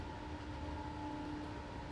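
The Dragon locomotive braking in the SimRail train simulator game, heard from the cab: a steady, even rail rumble with sustained whining tones and no speech.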